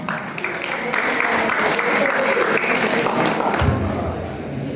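Sustained, loud applause from guests at a quinceañera celebration, steady dense clapping filling the room throughout with a low thump near the end.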